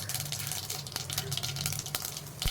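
Mustard, cumin and fennel seeds fry in hot oil in a pan, giving a steady close sizzle with scattered small pops and crackles throughout, no voices over it.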